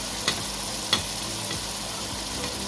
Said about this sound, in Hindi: आँच हमने हल्की कर दी है, ये इसी मसाले के अंदर अच्छे से पकेंगे।